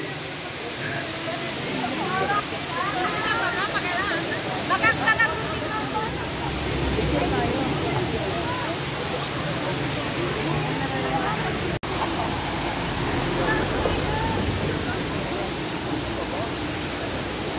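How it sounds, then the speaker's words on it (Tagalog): Water tumbles down a waterfall at an outing spot with pools below, making a dense, continuous hissing rush. Voices can be heard faintly beneath it. "ang ganda ng tubig, nagalaglagan"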